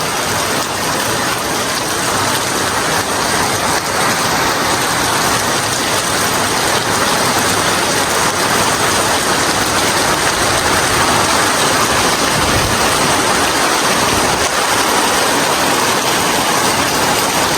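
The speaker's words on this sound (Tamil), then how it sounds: "எல்லோருக்கும் இந்த மழையுடைய சத்தம் கேட்டிருக்கும் இந்த காற்றுடைய சத்தமும் கேட்டிருக்கும்" Heavy rain pours steadily for the whole stretch in Adirampattinam, a dense, loud hiss of water with gusting wind blended in and no voices.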